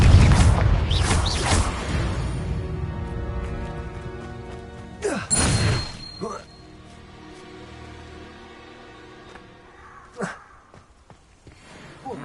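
Confringo blasting spell from Hogwarts Legacy: loud crashing blasts with whooshing bursts, a cluster at the start, another sharp blast midway and a smaller pop near the end, separated by quieter ambient stretches.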